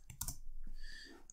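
A few quick keystrokes on a computer keyboard while entering CSS code, short close clicks clustered at the start followed by quieter faint tapping, with no talk.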